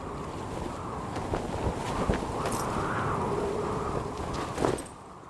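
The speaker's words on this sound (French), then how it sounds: "le bruissement des arbres." Rustling of trees in steady wind in a lush wooded setting from The Mandalorian, a continuous broadband whoosh with soft swells and a brief gust near the end, no voices.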